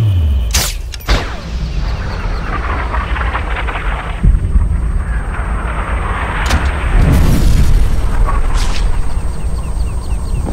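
A sniper rifle shot in Sniper Ghost Warrior during an oil refinery mission: a heavy boom followed by rumbling, mechanical clatter and several further sharp cracks, loud and close throughout.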